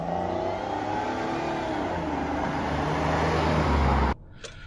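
A 2005 Jaguar S-Type with a 2.5 litre V6 petrol engine drives along, a steady engine hum with road noise that holds for about four seconds before cutting off abruptly.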